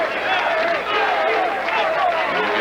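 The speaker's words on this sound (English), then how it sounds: "You can hear the crowd chanting, Gary, Gary." A crowd at the 1998 PBA Albuquerque Open bowling tournament chants a player's name in a rhythmic, sustained group cadence. The chant is loud and close and continues throughout.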